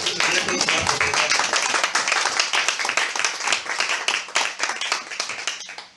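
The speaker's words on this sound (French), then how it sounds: "Applaudissons pour le Seigneur" A church congregation claps loudly and steadily for several seconds, a dense patter of many hands that gradually thins toward the end.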